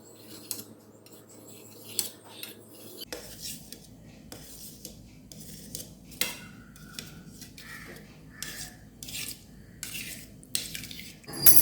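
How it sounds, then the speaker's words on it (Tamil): Knife or spatula scraping and tapping through set jelly in a dish, a series of light, sharp clinks and scrapes against the container spread irregularly over the stretch, fairly close and quiet. "இப்போ நம்ம கட் பண்ணிடலாம்."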